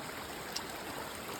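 A river flowing through woodland on a long-distance trail crossing, a steady, soft rushing of water filling the background with no other sounds standing out.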